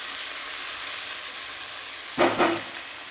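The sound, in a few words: chopped onion and tomato frying in oil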